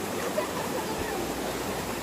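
A rural stream flows with a steady broadband rush of water, close and constant, and nothing else stands out.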